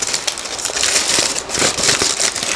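Crinkly parchment paper being crumpled by hand nearby, a steady crackling rustle that swells and fades in waves.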